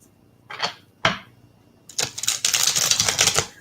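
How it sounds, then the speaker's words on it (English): Tarot cards being shuffled up close, two quick riffles followed by a longer, louder rapid flutter of cards. "as I shuffle the cards"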